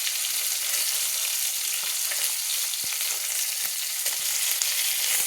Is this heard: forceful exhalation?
no